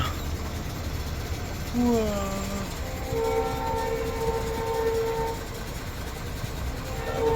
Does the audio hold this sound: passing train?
yes